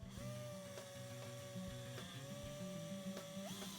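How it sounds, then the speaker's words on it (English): A high-pitched drill whines steadily for several seconds, pitch rising sharply at the end, with rhythmic clicking and mechanical thuds underneath, re-drilling fastener holes in a sailboat deck. "Now you can go back and re-drill those holes to the same diameter as the fasteners."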